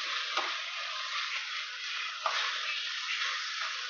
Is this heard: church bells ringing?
no